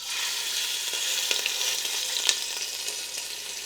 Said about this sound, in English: basically you just wanna sear the big chunks of meat on all sides